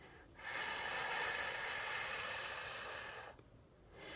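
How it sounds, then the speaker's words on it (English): A slow, drawn-out breath out during a focused breathing exercise, soft and close, rising after a brief pause and holding steady for a few seconds before tapering off. "exhale to the count of 8"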